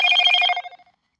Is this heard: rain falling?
no